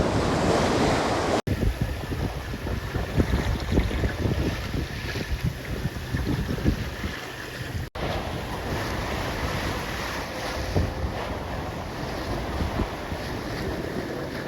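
Strong wind buffets the microphone while waves rush and splash against the hull of a moving sailboat off Antigua and Barbuda, a continuous roaring wash with no voices.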